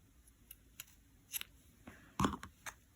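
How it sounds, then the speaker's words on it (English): Scissors snipping a crochet yarn strap, several crisp close cuts spaced irregularly, the loudest near the end, in a quiet room with no talking. "I'm going to trim this one a bit."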